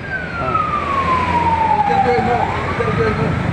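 A fire engine's siren glides downward in one long falling tone as the truck passes close by on a busy road, loud over traffic noise, with faint voices underneath.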